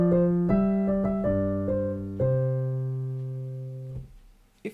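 Trill rounding off a line of a Handel gavotte: a short series of crisp instrumental notes stepping downward, then a long sustained final tone that fades out, played solo with no talking.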